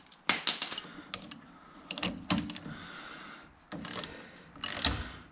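Ratcheting clicks from a wrench tightening the brake caliper bolts on a 2020 Polaris General XP 1000, in several short bursts with pauses between, close and moderately loud.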